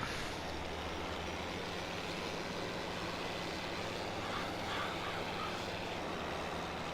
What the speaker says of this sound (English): you've got to stop when that buzzer goes and back it up a little bit